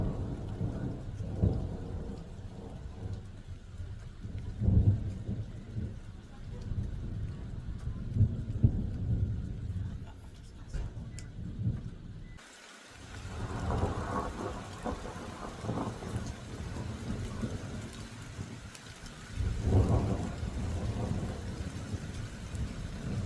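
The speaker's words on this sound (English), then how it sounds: "The thunder is here, the lightning's here, the rain is here." A thunderstorm heard from a front porch: steady heavy rain patters on surfaces while deep thunder rumbles roll in several times, swelling loud and fading, with the downpour intensifying partway through.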